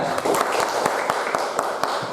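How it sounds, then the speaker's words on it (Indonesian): Students in a classroom giving a short round of applause for a classmate's answer, a light spatter of claps at moderate loudness with some faint voices mixed in. "Tepuk tangan buat Rara atas jawabannya."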